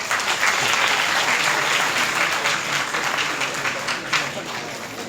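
Audience applause at a student award ceremony, steady clapping from a crowd of children and parents filling the hall, sustained and fairly loud throughout.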